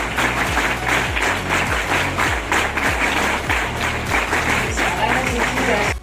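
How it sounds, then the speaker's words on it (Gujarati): A school crowd at a student entry celebration claps in loud, rhythmic unison, a regular pattern of sharp claps repeating steadily for several seconds before stopping. "આપણી શાળાની વિશેષ તાળીઓ વડે તેઓનું સન્માન કરીએ."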